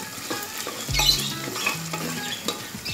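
Chicken frying in a pan for a chicken vegetable khichuri, with a constant sizzle under repeated scraping and stirring of a utensil against the pan, close and busy, with no one talking.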